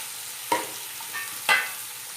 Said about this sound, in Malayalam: ക്യാരറ്റും ബീൻസും ചെറുതായിട്ട് നീളത്തിലരിഞ്ഞത് അത് നമുക്ക് ഇതിട്ട് കൊടുക്കാം.